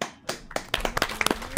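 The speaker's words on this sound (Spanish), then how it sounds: "Muy aplausos muy fuertes para la gente de CD Projekt Red" A small group claps for a game award winner, the scattered, uneven hand claps starting sparse and then quickening into a brief ragged burst.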